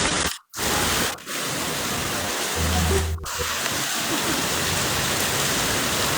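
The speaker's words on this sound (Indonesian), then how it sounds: "Hujan deras sih gimana?" Heavy rain pours steadily in Singapore, a loud, dense hiss filling the whole stretch, with a few brief dropouts and low thumps underneath.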